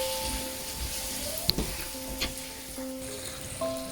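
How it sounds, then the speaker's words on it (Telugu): Chicken pieces and grated coconut frying in a pan for chicken pachadi, a steady low sizzle under faint background hum, with a sharp click or two from stirring and no talk. "పీసెస్ వేసి కోకోనట్ బాగా ఫ్రై చేద్దాం"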